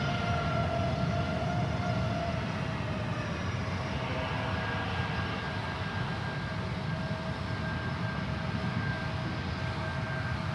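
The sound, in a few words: airplane landing at San Francisco airport runway 28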